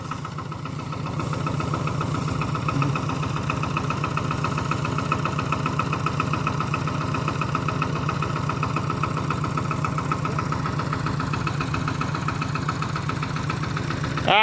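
A steady, low engine idles continuously with a rhythmic chugging throb, close and fairly loud, holding constant throughout.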